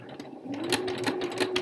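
A sewing machine back-stitching a seam in fabric with a zigzag stitch, running in a steady close mechanical whir with rhythmic needle ticks, loud and alone.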